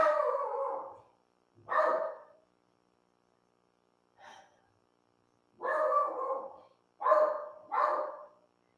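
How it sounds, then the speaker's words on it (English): A dog barks outside at a man mowing the lawn, letting out six fairly loud, drawn-out barks in irregular bursts, with one shorter, fainter bark in the middle and silence between them. "that dog is barking at"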